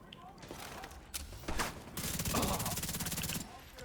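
An enemy in a shooter game fires rapid automatic bursts that crackle over steady game ambience. The shots grow denser toward the end and are fairly loud and close.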